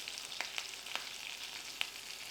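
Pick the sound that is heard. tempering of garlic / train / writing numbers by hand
tempering of garlic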